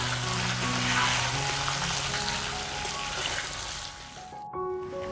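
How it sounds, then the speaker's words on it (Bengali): Potatoes seasoned with salt, turmeric and chili powder fry in hot oil with a loud, dense, continuous sizzle that fades a little before a brief break near the end. "আমি আলুগুলো একটু ভালো করে ভেজে নেব।"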